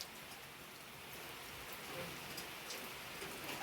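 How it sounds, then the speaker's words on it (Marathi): Light rain falls steadily outdoors in a rural setting where chickens are foraging, a soft, even wash of drops with no voices, fairly faint and distant throughout. "असा पाऊस झालेला आहे"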